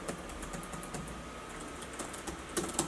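Keys tapped one after another on an HP/Compaq G42 laptop keyboard during a key test, a steady run of light clicks with a few sharper strokes near the end, close and alone.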